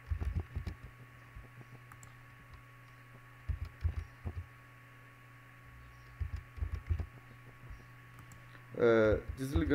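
Computer keyboard typing while atomic coordinates are entered for docking software, scattered soft keystrokes in small bursts over a steady low electrical hum, with a short burst of speech near the end.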